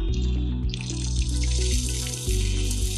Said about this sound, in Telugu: వాటర్ కూడా చాలా ఫోర్స్ తో వస్తుంది